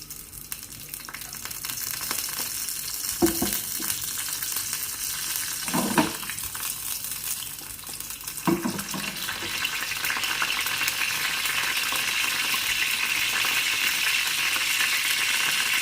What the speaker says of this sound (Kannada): ಅದಾದಮೇಲೆ ಕರಿಬೇವಿನ ಸೊಪ್ಪು ಹಾಕ್ಕೊಳ್ಳಿ.